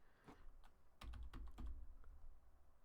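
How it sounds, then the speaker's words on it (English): Quiet, close computer keyboard typing, with a few scattered keystrokes followed by a quick cluster of clicks and no voices. "Oh, I'm just typing terrible today."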